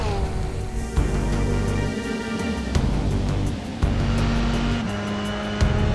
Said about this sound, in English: It's a fast lap coming in from Dylan Warren.